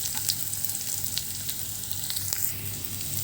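Kerala-style curry sizzles steadily as it fries in a pan, with occasional stirring scrapes over the continuous close frying hiss.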